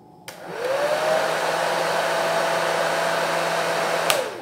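Philips BHD006 EssentialCare hair dryer switching on with a click, then blowing a steady, close, loud airflow whine for about four seconds before cutting off with another click.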